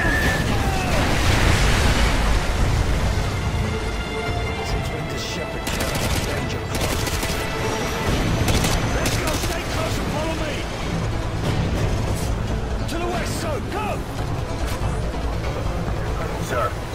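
Danger-close artillery fire mission in the video game Call of Duty: Modern Warfare 2: a dense, continuous barrage of loud, close blasts and crackling gunfire with heavy rumble throughout, and voices faintly mixed in.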